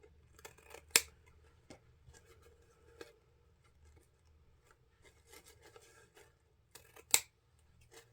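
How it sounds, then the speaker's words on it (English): Quiet, close snips of scissors angle-trimming ribbon ends, two sharp crisp cuts standing out among softer rustling and handling noises. "go ahead and grab your scissors, and I'm just going to angle trim all of my ends"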